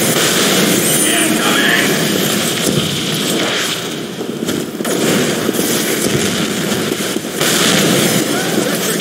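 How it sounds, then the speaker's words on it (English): Gunfire in a Team Fortress match on the Dust Bowl map: dense, continuous shooting and blasts close by, filling the whole clip with a brief lull midway, as players shout over the action. "Shooting! Incoming!"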